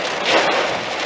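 Heavy thunderstorm rain pours down in Corte Franca, a dense, loud, steady roar of rain beating on surfaces, with no talking.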